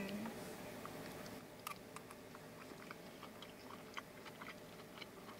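Someone quietly chews a bite of food, soft close-up mouth sounds and faint crunching repeated through a few seconds in an otherwise hushed setting.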